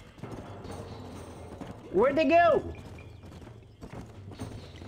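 Horses in Red Dead Redemption making clip-clop hoofbeats in a soft steady rhythm, with a brief whinny-like burst in the middle, heard beneath a voice.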